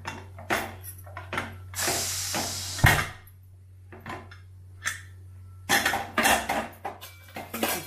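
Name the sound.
pressure cooker being opened after whistling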